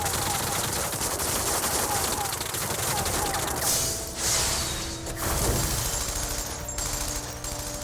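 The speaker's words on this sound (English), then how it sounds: "this rain of bullets would be enough to turn a run-of-the-mill dead apostle" A dense hail of gunfire rattles through a scene in the visual novel Tsukihime, a loud continuous fusillade of rapid shots with crashing, shattering impacts and brief whooshes toward the end.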